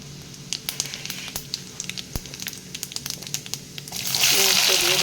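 Whole garam masala spices crackle and sizzle in hot mustard oil in a wok, with small pops over a steady frying hiss that swells louder near the end.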